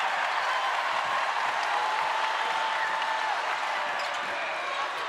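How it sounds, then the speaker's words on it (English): Arena crowd noise at an NCAA women's basketball game between Alabama and Texas, a steady, loud roar of cheering and applause that holds without a break from start to finish. "Crowd loves it."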